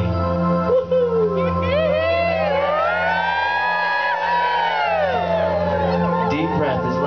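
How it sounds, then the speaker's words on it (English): A crowd at a playful group gathering whoops and cheers joyfully together, sustained rising and falling voices and shouts filling the full seven seconds at close, loud level. "Let us remember our inner child and cheer joyfully."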